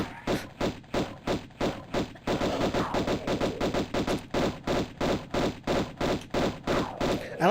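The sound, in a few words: dual guns firing in video game Tomb Raider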